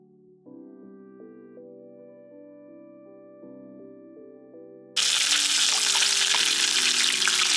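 Chicken flautas fry in a pan, a steady hiss of sizzling oil that swells loud and bright partway through, layered over a low tonal hum, with no talking.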